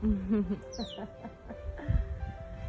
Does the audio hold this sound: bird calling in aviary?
yes